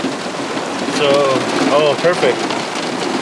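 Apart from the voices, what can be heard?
rain blowing around outdoors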